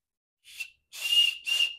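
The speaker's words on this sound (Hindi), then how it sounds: "ये वाटर प्रूफ हीटेक है और इसमें सीटी भी है" A whistle built into a waterproof sports wristwatch gives three shrill, piercing blasts, one short and two longer, loud and close, with silence between them.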